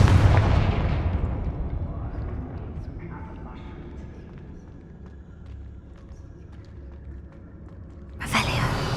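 A Confringo spell blast in Hogwarts Legacy opens with a heavy, booming explosion that decays into a long low rumble, followed by a second sharp burst near the end.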